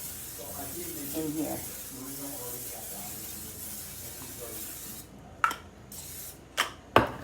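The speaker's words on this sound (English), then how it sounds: "I'm gonna spray the olive oil spray" Olive oil cooking spray hisses steadily for several seconds while someone talks nearby, and a few sharper knocks follow once the spraying stops.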